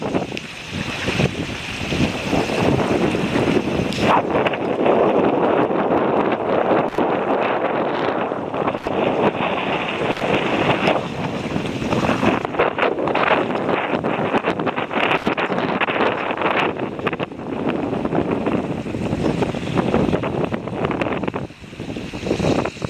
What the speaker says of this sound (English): great winds, making a lot of energy